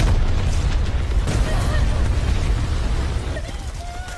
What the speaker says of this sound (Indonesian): mengambil sebuah granat untuk ia lempar ke dalam terowongan